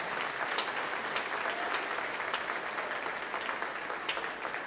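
A church congregation claps together in continuous, even applause during a worship service, the sound filling the room at moderate level with no speech over it.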